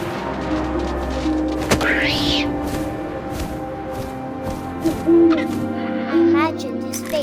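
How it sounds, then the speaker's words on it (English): Owl hooting in the video game What Remains of Edith Finch, a few soft hoots over low wind ambience with scattered thumps and rustles. "And suddenly, I was an owl."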